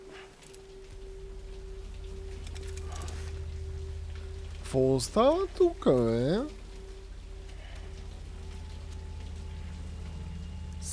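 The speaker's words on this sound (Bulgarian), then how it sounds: "Някакъв дъжд ли бъде?" Rain falls steadily as a soft constant hiss in the Death Stranding video game, with a low drone beneath it and a short burst of talk partway through.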